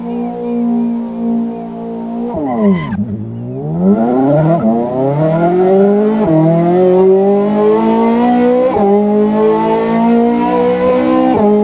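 Ferrari Roma in the racing game Assetto Corsa, its engine idling, then blipped and revved hard before pulling away through rising gears with sharp shift breaks, loud and close throughout.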